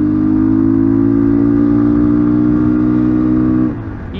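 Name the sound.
motorcycle riding slowly on a mountain pass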